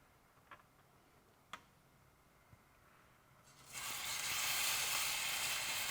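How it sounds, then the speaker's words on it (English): Seasoned pork hits a hot pan: a few faint ticks in near-silence, then a sudden loud, steady sizzle that swells and holds to the end. "You want to get your pan relatively hot. That's what is gonna seal the juices, and you're gonna get a nice sear on the pork."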